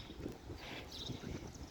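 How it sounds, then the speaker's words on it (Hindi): Wind gusting outdoors near rental buildings in Cleveland, Ohio in summer, a steady rushing buffet against the microphone that rises and falls, continuous and fairly close. "और अब हवा चलने लगी।"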